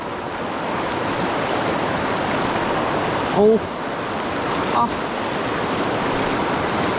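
Rushing spring water pours steadily through a flooded rice field, a loud continuous broadband wash close by, with a brief voice breaking in twice near the middle.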